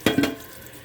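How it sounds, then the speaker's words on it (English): Ground meat is tipped out of a skillet into a strainer for sloppy joes, giving two quick, close scraping, sizzling thumps in under half a second, then quiet. "So emptied all the meat out of the skillet"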